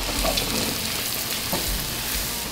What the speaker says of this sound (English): While these mushrooms are sauteing